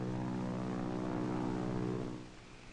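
Propeller airplane flying overhead, a steady droning engine hum with a layered buzzy tone that holds evenly and then eases off slightly as it passes.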